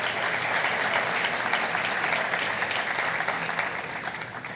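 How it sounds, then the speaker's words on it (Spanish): A church congregation claps together in sustained, dense applause during a worship service, steady and loud throughout before easing slightly at the end. "Sigamos dándole ese aplauso al Señor por ellos, por la vida de ellos."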